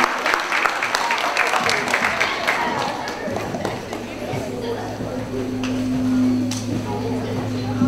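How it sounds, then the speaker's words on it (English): A school awards assembly audience claps for a student being honored, a dense, sustained round of applause with crowd murmur that carries on throughout, with a low hum emerging toward the end. "Big round of applause for Ella."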